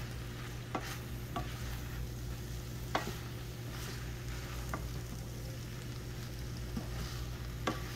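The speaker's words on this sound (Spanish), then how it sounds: "le vamos a poner los nopales" Nopales cactus pads stirred in a hot pan, a steady low sizzle running throughout with a few sharp clicks of a utensil against the pan, fairly quiet and close.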